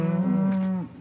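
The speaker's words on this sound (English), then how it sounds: "But most immediate are the cows. They must be milked." A dairy cow on a farm lets out a single loud, sustained moo lasting most of a second, close by and clear, then cuts off abruptly.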